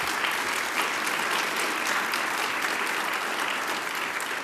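Steady, dense applause fills the Nevada State Legislature chamber, many hands clapping together at an even, sustained level with no voices rising above it.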